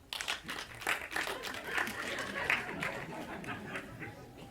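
Applause from a French comedy show audience, a burst of scattered hand claps mixed with crowd chatter, moderately loud and fairly brief, thinning toward the end.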